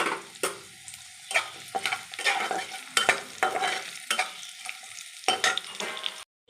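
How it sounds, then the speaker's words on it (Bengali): Nigella and black mustard seeds sizzle in hot oil alongside frying garlic, with repeated irregular scraping strokes of stirring and short bursts of crackle, close and moderately loud. "সামান্য আমি কালো জিরে আর কালো সরষে ফোড়ন দিলাম।"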